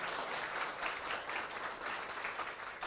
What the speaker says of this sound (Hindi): आपको ताली बजानी चाहिए इस बात के लिए।